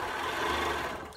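A sewing machine stitches along a ruler with a steady, continuous whirring hum that runs briefly and then eases off at the end.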